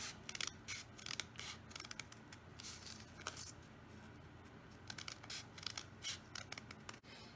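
Scissors snip repeatedly through paper while cutting holiday ornament shapes, a close, crisp series of short cuts with brief pauses, no talking.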